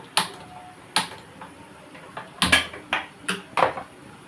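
Metal lid and cooking pot clatter in a home kitchen, six or seven sharp separate clinks and taps spaced unevenly, the louder ones clustered near the end, with no talking.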